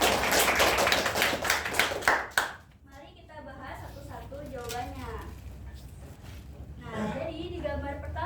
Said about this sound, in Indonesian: Oke, kita beri tepuk tangan untuk teman yang sudah menjawab.